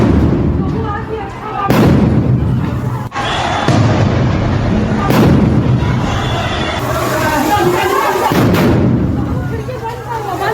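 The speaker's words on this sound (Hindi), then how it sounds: "अंदर धमाकों की आवाज सुनिए जरा" Crude bombs going off in a narrow Howrah lane, several heavy booming blasts echoing between buildings over a steady crowd murmur, with people talking nearby throughout.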